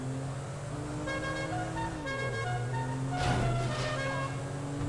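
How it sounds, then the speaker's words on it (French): A car horn in a French-language driving video game honks once or twice over a steady engine drone, with a brief louder burst partway through, no voices alongside. "J'adore le klaxon."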